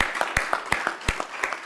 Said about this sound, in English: I would like for you all to give yourself a round of applause for the friends and the family